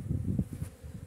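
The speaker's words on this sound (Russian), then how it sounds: "А пасека гудит пчелами." Honey bees at an apiary on a day of flying after rain, acacia in bloom, give a steady low droning hum that swells and pulses throughout, close and continuous with no voices.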